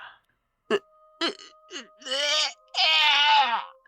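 A sharp cough bursts out, then several strained, moaning vocal sounds follow, harsh and close, with a steady faint hum underneath.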